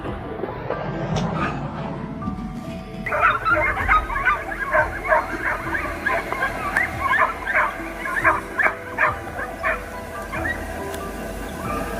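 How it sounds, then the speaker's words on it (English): Hunting hounds barking during a wild boar hunt outdoors, a rapid run of loud yelping barks in quick rhythm from about three seconds on over a rumbling background, following a low noisy start. "The loud barks of the hounds rang clearly."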